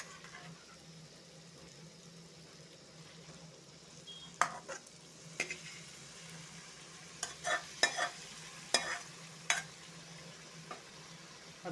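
Dill leaves fry in a pan and are stirred, giving a steady low sizzle with several sharp scraping strokes of a spoon that grow more frequent in the second half. The sound is fairly quiet and close, with no voices.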